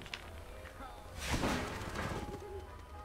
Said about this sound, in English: we released an owl